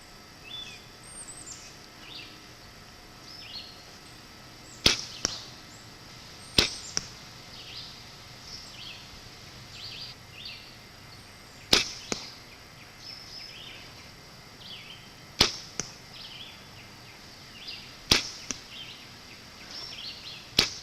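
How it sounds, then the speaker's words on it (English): Arrows tipped with Slick Trick broadheads on Carbon Express 300 shafts, shot at a target 30 yards away, five or six sharp, separate thwacks spaced seconds apart over an outdoor background of faint birdsong and insects. "We're shooting slick trick broadheads on Carbon Express 300 shafts at 30 yards"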